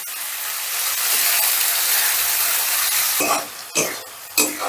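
Spice paste with tomato, ginger and garlic fries steadily in a pan for a rohu fish curry, a continuous loud sizzle with a few stirring scrapes and bursts near the end.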